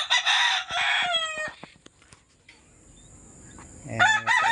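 Chickens and a rooster in a backyard coop, with a loud nearby rooster crow at the start, scattered clucks and clicks in a quieter middle stretch, then another crow rising at the end.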